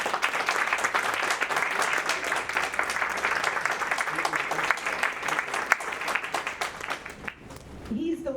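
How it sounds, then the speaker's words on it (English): A steady round of audience applause at a university teach-in on immigrants' struggles, continuous dense clapping that tapers off near the end. "I'd like a big round of applause for the person behind this entire event"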